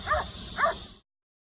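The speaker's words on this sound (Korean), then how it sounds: "개 한 마리가 수면을 내려다보며 주변을 살핍니다. 보트가 일정 지점에 다다르자 갑자기 훈련관을 보며 짖기 시작합니다." A water search detection dog on a rescue boat barks twice in quick succession during a river search for a missing person, the barks close and clear over a steady motor hum.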